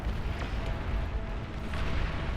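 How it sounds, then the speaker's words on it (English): Artillery barrages in the real-time strategy game BAR, a steady rumbling wash of distant booms and bursts layered together, dense and continuous with a few sharper shots rising above. "the artillery can basically freely start firing"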